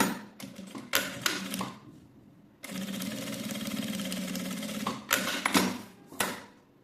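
Sewing machine stitching close along zipper teeth in a craft project, with short bursts of rapid mechanical clatter, then a long continuous run of stitching, followed by more brief bursts.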